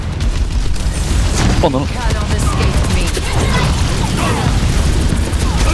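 Booming explosions from the Overwatch 2 video game erupt in a dense, continuous barrage of blasts and pops, loud and close, with a player's voice speaking over the chaos.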